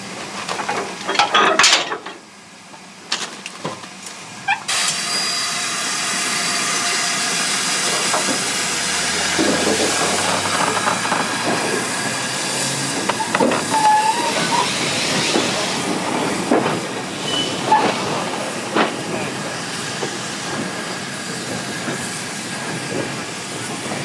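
Steam locomotive The Great Marquess standing at Mallaig station while being uncoupled, with sharp metallic clanks and couplings knocking over a steady mechanical hiss, nearby and fairly loud throughout.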